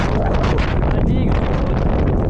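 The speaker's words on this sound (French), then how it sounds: "le vent est terrible" Heavy gusts of wind on a seawall roar across the microphone, loud and unbroken, with a constant rumbling buffet.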